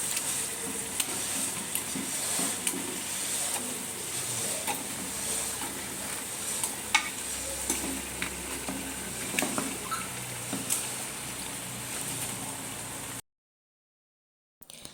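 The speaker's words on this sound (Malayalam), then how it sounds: "നമ്മുടെ മസാല എല്ലാം വഴറ്റി വന്നിട്ട് ചിക്കനും ആഡ് ചെയ്ത് കൊടുത്തിട്ട് നന്നായിട്ട് മിക്സ് ചെയ്തെടുക്കുക" Masala and chicken sautéing together in a pan for Malabar chicken dum biryani, a continuous moderate sizzle with scattered stirring scrapes and clinks, then the sound cuts abruptly to silence near the end.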